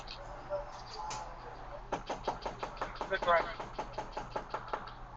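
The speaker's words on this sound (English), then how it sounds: "I'm just knocking on your door." Police knock on a house door, first a few scattered raps and then a long run of rapid, firm knocks, close and loud, with a voice speaking at times.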